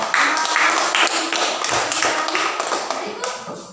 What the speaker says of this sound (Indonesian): kita tepuk tangan untuk Tio yang sudah